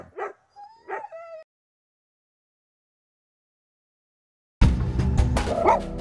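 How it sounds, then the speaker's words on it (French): Excited small poodle-type dogs on harnesses give a few quick yips and barks close by, a silent gap follows, then a loud burst of barking and household commotion returns. "Et t'as fini d'aboyer comme ça, Gao."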